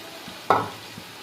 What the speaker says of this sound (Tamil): தக்காளி அரைச்சி வச்சுருக்கேன் அதையும் வந்து ஆட் பண்ணிக்கிறேன்